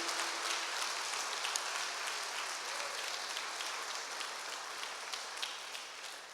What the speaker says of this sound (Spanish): Denles fuerte ese aplauso